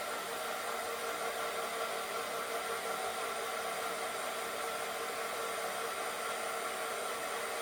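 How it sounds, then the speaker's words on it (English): Heat tool blowing steadily on a painted birthday cake topper to set the paint, a continuous broadband whoosh with no breaks, close and fairly loud throughout. "we're gonna heat press this"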